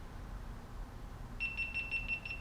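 A GoPro Hero11 camera fitted with the Media Mod beeps as it powers off, a rapid run of about six short, high electronic pips heard close up over a low background hum.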